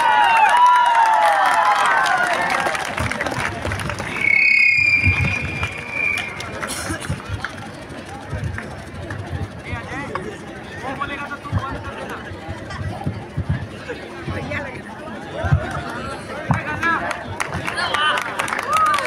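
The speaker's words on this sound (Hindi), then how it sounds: "जोरदार तालियों के साथ स्वागत कीजिए हमारे नेताजी का" Audience at a government higher secondary school play welcoming the Netaji character, with a crowd's applause and chatter filling the hall under loud talk from performers.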